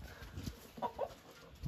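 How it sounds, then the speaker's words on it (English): Hens cluck softly inside a chicken coop at a farm in Tatong, Australia, with two short close clucks near the middle over faint background rustle and no talk. "here we are inside Australia's best designed chicken coop"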